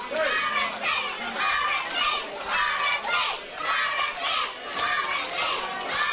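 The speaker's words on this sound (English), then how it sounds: "And the crowd cheering RSP" A wrestling crowd at a DOA event cheers and chants in rhythmic bursts, loud surging waves of voices rising and falling in a steady chanting pattern.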